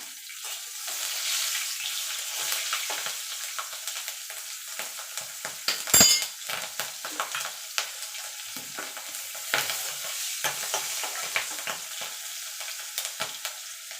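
Green chillies and taro greens frying in a pan, a continuous soft sizzle with the scrape and clatter of stirring, one sharp clank near the middle, no voices.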